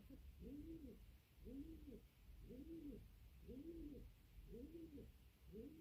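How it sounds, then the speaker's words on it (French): A pigeon coos nearby in a steady repeating rhythm, about six soft rolling calls spaced roughly a second apart over a quiet hum of background noise. "ah, j'ai du mal à me concentrer avec ce pigeon."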